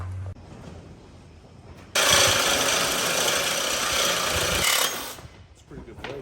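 A steel motor mount bracket for a TRX90/CR85 rebuild is bent on a metal brake, giving a steady three-second grinding, rubbing scrape that starts sharply and stops abruptly, with quieter shop handling before and after.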